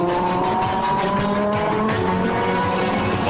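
Audi five-cylinder turbocharged Quattro race car on a qualifying run through the Long Beach street circuit: a loud, steady, buzzing engine roar that holds throughout, with faint tire noise and no voices.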